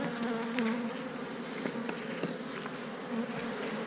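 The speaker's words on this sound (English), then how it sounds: "I'm going to brush these bees off this honeycomb." Honey bees crowd a honeycomb as they are brushed off it, their dense buzzing a steady, close drone with a few louder passes from individual insects.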